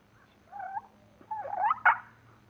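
A person imitates a turkey purr call with the voice alone, making a few soft, warbling, rolling bursts that rise and fall in quick succession, close and fairly quiet in a still setting.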